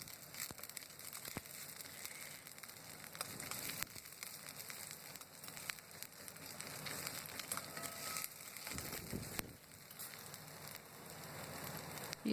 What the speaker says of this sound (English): Add ginger garlic paste and fry well